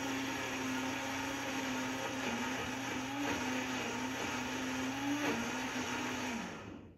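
An Almond Cow machine blends coconut milk in a steady, loud motor whir that runs unbroken for several seconds, then winds down at the end as the cycle stops.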